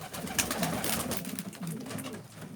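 Adana pigeons coo in soft, repeated rolling phrases, several birds close by, layered over a busy background of rustling and other bird sounds.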